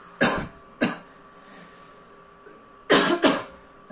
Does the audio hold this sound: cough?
yes